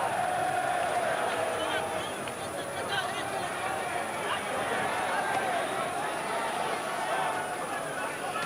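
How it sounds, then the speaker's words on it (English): A boxing arena crowd sings in appreciation of a British fighter, a broad sustained chant with wavering melodic lines over dense crowd noise, loud and continuous throughout. "And this crowd singing their appreciation of him."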